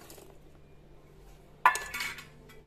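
A spoon stirs spices, turmeric and peeled garlic into chopped mango pickle in a bowl, with a sudden scraping clink of utensil against the dish partway through and soft handling noise around it, with no talk.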